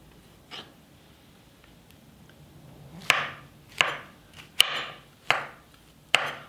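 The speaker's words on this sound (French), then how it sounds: "Pour commencer, on va tailler les champignons." Button and oyster mushrooms being cut with a knife on a board: one faint knock, then five crisp, evenly spaced chops, close and distinct against a quiet background.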